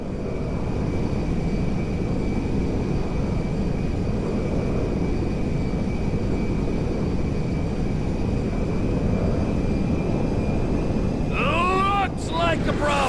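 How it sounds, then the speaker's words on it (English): A cargo jet in Grand Theft Auto 5 drones in flight with a loud, steady rushing roar and a thin whine held throughout, then a voice speaks briefly near the end. "Ronnie, the cargo jet is now part of the TP Enterprise fleet"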